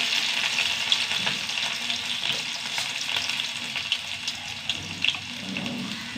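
Urad dal and peppercorns frying in hot coconut oil, a steady close crackling sizzle with small pops throughout, no voices.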